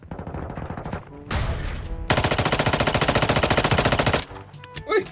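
Loud automatic gunfire in the mobile shooter game Warzone Mobile: short bursts at first, then a long rapid string of shots lasting a couple of seconds, ending with a few scattered sounds.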